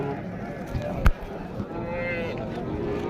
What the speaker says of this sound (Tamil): இது வந்து பசுமாடு.